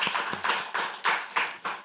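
A church congregation at a Korean Christmas worship service claps in blessing, a brief burst of steady rhythmic hand claps at close range.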